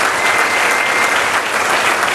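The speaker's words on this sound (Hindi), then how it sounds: "एक बार जोरदार तालियां मान सर के लिए" A seminar audience in Bareilly bursts into loud, thick applause, a continuous wash of clapping held at an even level for the brief moment.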